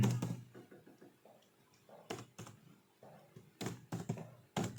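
Fingers tap on a computer keyboard in quiet, uneven bursts of clicks and key presses. The typing is close and faint.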